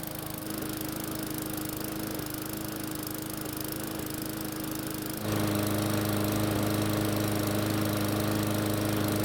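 A Bolens lawn mower's small gasoline engine runs steadily and loud, a continuous droning hum that steps up slightly in pitch and volume partway through, with no talking.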